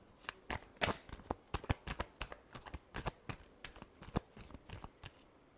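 Tarot cards being shuffled by hand, a close run of crisp riffling bursts and papery slaps in an irregular rhythm, with no voices.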